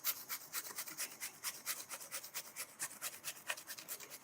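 Zucchini is rubbed against a coarse grater blade in a kitchen, making a quick, even run of about twenty rasping scrapes, close and clear with no voices.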